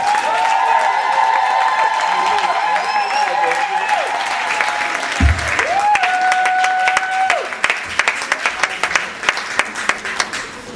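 Crowd applause and cheers at a live concert as a Paris band takes the stage, dense clapping under music tones, with whoops and louder individual claps building toward the end.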